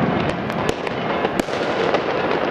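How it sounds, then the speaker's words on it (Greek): Fireworks and firecracker blasts along the Kalymnos seafront just after the Easter Resurrection service, sharp cracks popping at irregular intervals over a dense, continuous rumble of distant explosions. "Τώρα έχουν ανάψει μερικά πυροτεχνήματα."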